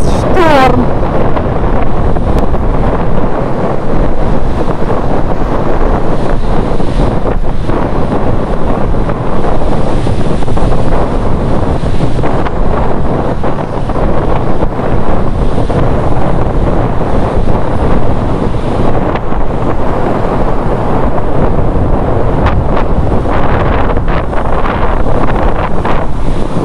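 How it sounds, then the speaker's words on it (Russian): Strong wind buffets the microphone over a stormy sea crashing against the rocky shore at Cape Tarkhankut in Crimea, a loud, dense, continuous roar of surf and gusts throughout. "у нас шторм."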